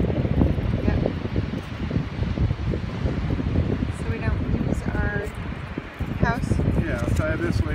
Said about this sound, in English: Oh, the wind's already blowing.